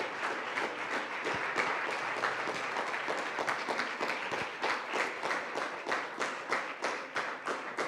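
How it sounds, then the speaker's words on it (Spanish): A church congregation claps together through a long, steady burst of applause at an evening Easter service, a dense, even roar of hands with no talking over it. "Bien fuerte ese aplauso al Señor por su palabra"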